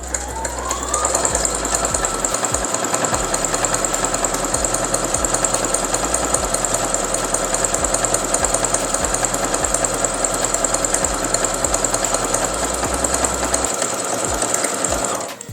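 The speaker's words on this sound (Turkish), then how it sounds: "Pedalıma basarak dikişe başlıyorum." Moonstar ES5 electronic household sewing machine stitching a zigzag seam, a loud steady mechanical whir with rapid needle clatter running continuously, alone without talk, with a few low thumps near the start.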